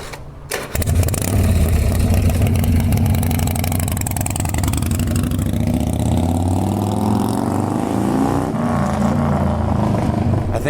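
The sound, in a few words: display chopper motorcycle engine running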